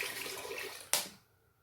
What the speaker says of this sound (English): I'm actually going to put mineral water in here